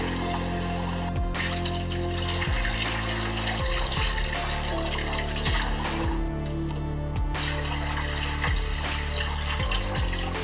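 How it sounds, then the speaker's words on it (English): Tap water runs steadily over mixed lentils being washed for dal in a home kitchen, a constant close splashing stream with no talk. "I'm gonna take a moderate amount of it, not too much, and wash them well."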